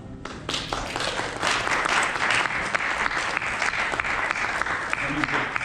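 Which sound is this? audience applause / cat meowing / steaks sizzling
audience applause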